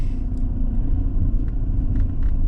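Taxi car driving on a road in Kyiv, a loud steady low rumble of engine and tyres heard from inside the cabin, continuous throughout with no talk.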